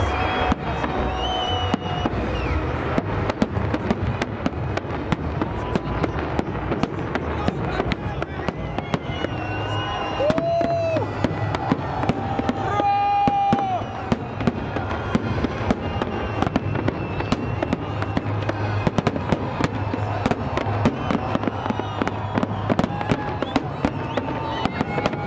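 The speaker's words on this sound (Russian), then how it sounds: "А вечером на площади Ленина нас ждал салют." Fireworks crackle and pop continuously over a murmuring crowd on a city square during a Victory Day salute, with a couple of whistling rockets rising, distant booms rolling throughout.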